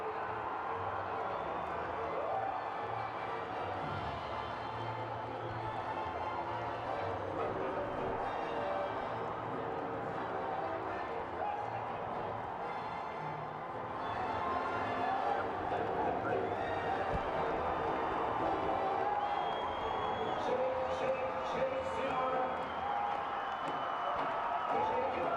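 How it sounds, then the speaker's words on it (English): A large crowd at Fenway Park cheers and roars steadily for a Red Sox celebration with Jonathan Papelbon on the field, a dense continuous wash of fan noise with music and a commentator's voice over it. "You can hear the crowd."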